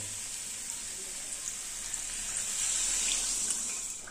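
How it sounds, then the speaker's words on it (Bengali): Water poured into a pan of sizzling spiced turnip and potato, a steady hiss and sizzle that swells louder toward the end, close up with no talking. "এবার পরিমাণ মতো জল দিয়ে দেবো।"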